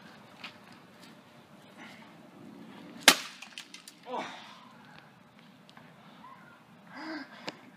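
An old GE CRT television is smashed: a single sharp, loud crack of breaking glass hits midway, surrounded by scattered knocks, rustling and heavy breathing.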